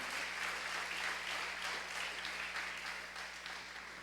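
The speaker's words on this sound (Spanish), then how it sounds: "Dele un aplauso fuerte a Dios en esta mañana." A church congregation gives a strong round of applause to God during a morning service, dense steady clapping from many hands at a moderate distance, with a low electrical hum running beneath it and no talk.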